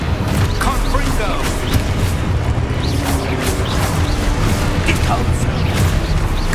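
Confringo blasting spell explosions in the Hogwarts Legacy video game boom repeatedly amid loud, busy combat noise, with a voice calling out over the blasts.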